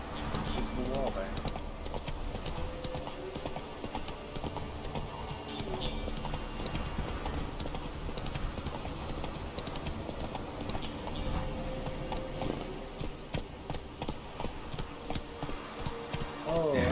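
Horse hooves clip-clop at a steady riding pace as the horse is ridden in The Witcher 3: Wild Hunt, mixed with game ambience and music while a voice talks over it.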